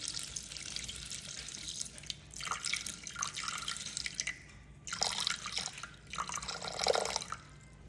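Water poured into a Bimby kitchen machine for homemade bread dough, a splashy trickling stream in several bursts with brief pauses between, close and fairly steady, no talking.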